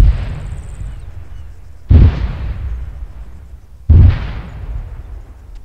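Artillery rounds from a video game's air and ground support strike land in two heavy booming impacts about two seconds apart, each a loud low thud followed by a rumbling decay over a continuous low roar.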